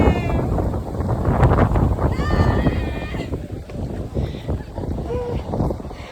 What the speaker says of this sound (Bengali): ভীষণ হাওয়া দিচ্ছে।